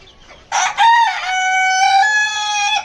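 A rooster kept in a rooftop aviary crows once, loud and close, a single drawn-out call of almost two and a half seconds.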